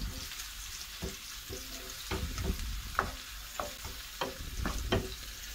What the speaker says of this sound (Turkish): Bunlar burada biberle soğan sotelenirken